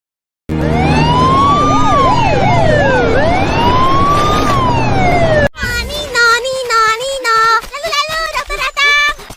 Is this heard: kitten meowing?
no